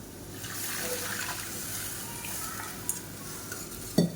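Water goes into a pan of frying onions and dried chillies for chicken vara milagai pirattal, raising a steady, close hiss and sizzle with light stirring, then a brief utensil knock at the end.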